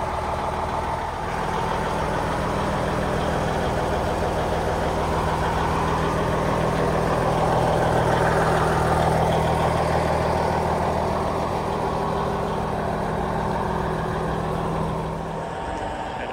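A Kenworth tribute truck styled after Smokey and the Bandit, fitted with chromed air cans, idles steadily close by, a deep continuous diesel rumble holding an even level throughout with no talk.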